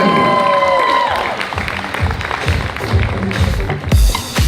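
Wedding reception guests clap and cheer for the groom's parents, a broad crowd wash with sharp individual claps rising near the end, after a brief tonal passage at the start.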